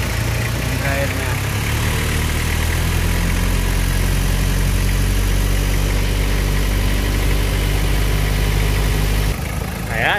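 A Toyota Tamaraw FX engine idles steadily with its air conditioning running, a loud constant low rumble and hum close by that shifts briefly near the end, while someone talks over it.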